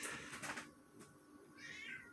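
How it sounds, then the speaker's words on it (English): Pet house cat meowing in the background of a room, a couple of faint drawn-out calls over the end half, quiet and somewhat distant. "You might be able to hear my cat in the background meowing."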